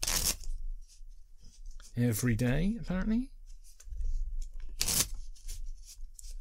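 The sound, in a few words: shuffling a deck of playing cards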